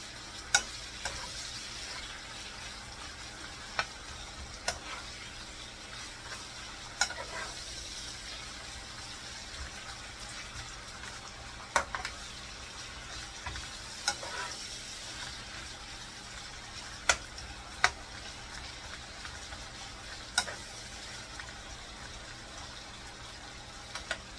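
Beef, bell peppers and onions stir-fry in a pan with soy sauce, making a soft, steady sizzle broken by regular clicks and scrapes of a utensil stirring, close by and fairly quiet, with no talking.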